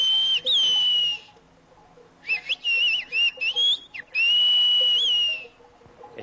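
Pyrenean shepherds' whistled language, sounded as long, loud, close, melodic whistles that glide up and down in pitch, with one long opening phrase, a series of short choppy bursts, then another long sustained phrase, alone with no talk.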